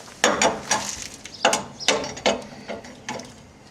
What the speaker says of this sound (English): Now we'll take the lug nuts off the rest of the way.